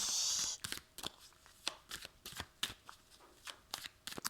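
Tarot cards being drawn from a deck, a quick riffle of cards followed by a series of crisp, separate card snaps and slides at an uneven rhythm, close and fairly quiet, with no talking.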